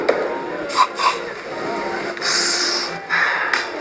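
Short bursts from an orange zest spray bottle primed off to the side before topping a Gold Fashioned cocktail, two quick puffs followed by two longer hissing sprays, close and fairly loud.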